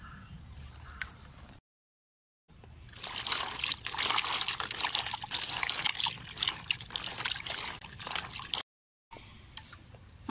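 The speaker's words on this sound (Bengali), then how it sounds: "আমি পুকুরের ঘাটে চলে আসলাম পেঁয়াজ রসুনগুলো ধোয়ার জন্য।" Onions and garlic rinsed by hand in pond water at a village bathing ghat, with steady trickling, splashing and dribbling of water close by, broken by short gaps, on a rainy day.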